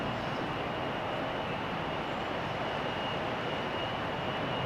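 Transavia airliner in Sunweb livery at rainy Amsterdam Schiphol Airport, a steady distant jet engine roar mixed with broad rain-like hiss, unchanging for the whole stretch.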